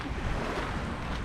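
Ocean waves wash onto a beach in Davao del Sur, making a steady, close, broadband rush with no pauses and some wind noise over the microphone.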